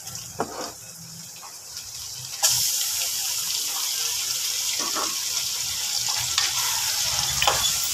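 Chicken thigh meat for tinola hits a hot pan and sizzles loudly and steadily, with a few clanks of stirring and handling over the constant frying hiss.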